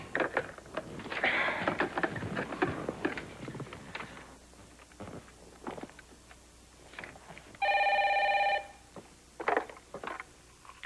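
A telephone rings once with a steady electronic trill lasting about a second, clear and fairly loud, after scattered footsteps and rustling in a quiet room.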